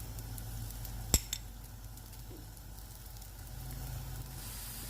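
A mooli paratha sizzling in ghee on a hot griddle, a steady soft frying hiss broken by a single sharp metallic tap near the start, close and quiet with no voices.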